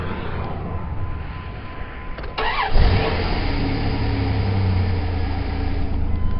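A Dodge truck engine cranks briefly and fires up at once, then settles into a steady, smooth idle with a low, even rumble up close; no one talks.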